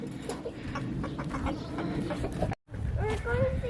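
Backyard flock chickens, including a Barnevelder hen, cluck close by, with steady clucking under a person's talk and a clearer squawk near the end after a brief gap.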